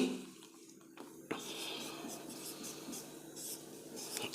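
Writing on a board during a Class 12 physics lesson on electric fields produces a steady scratchy rubbing that starts with a sharp tap and continues close and moderately loud, with soft speech-like sounds underneath.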